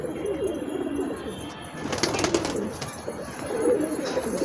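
A pigeon coos repeatedly in low, soft phrases close by, with faint bird rustling and background chirps around it.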